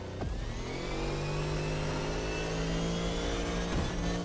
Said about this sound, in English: I want this engine sound